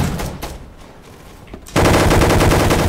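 Gunfire in the Roblox game Gunfight Arena: scattered shots early on, then a sudden loud, sustained machine-gun burst that fills the rest of the moment.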